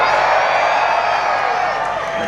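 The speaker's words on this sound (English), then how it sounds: "we need you to yell and scream and make a lot of noise" A theme-park ride audience at Disney's Hollywood Studios yells, screams and cheers on cue in a sustained, loud crowd roar that holds steady throughout.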